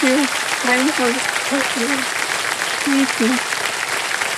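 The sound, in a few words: studio audience applause on KBC game show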